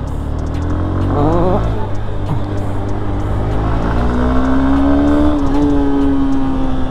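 A Honda Hornet 2.0 motorcycle engine revs up loudly and close, the pitch climbing steadily through the gears, with a faint voice underneath.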